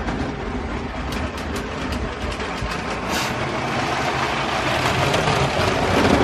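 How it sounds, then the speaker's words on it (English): A LEGO train rolls steadily over plastic track through a compact junction and crossover, a continuous close rattling clatter that slowly grows louder as it approaches, with no voices. "let's run a train around and see how that works"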